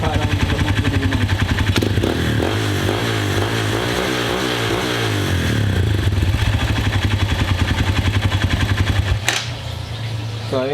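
MMC MX250 motorcycle engine fitted with a Nibbi PE30 Super Sport racing carburetor idling and revving nearby, a loud steady pulsing rumble that rises and falls with throttle blips.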